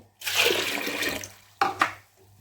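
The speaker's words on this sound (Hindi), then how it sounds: "इसके साथ ही हम पानी ऐड कर देंगे।" Water gushes into a cooking pot of lentils in a short splashing pour, followed by a couple of quick clanks and splashes, then stillness.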